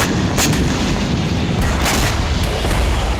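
Gunfire and heavy booms in Russia–Ukraine war footage, involving North Korean troops fighting alongside Russian forces, as dense continuous loud fire with several sharper reports standing out, no voices.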